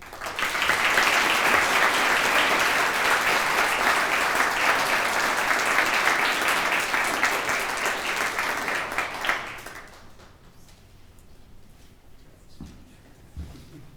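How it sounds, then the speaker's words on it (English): A crowd applauds an award winner at a law school hall of fame ceremony, full and sustained clapping for about nine seconds before it tapers off quickly into quiet room tone. "please join me in giving one more round of applause to the inductees here tonight and our award winner tonight"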